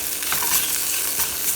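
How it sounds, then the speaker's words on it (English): Onions fry and caramelize in a pan with a steady close sizzle and crackle, and a few soft stirring scrapes come through without any voices. "here our onions are nicely caramelizing"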